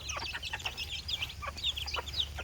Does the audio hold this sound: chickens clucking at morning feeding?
yes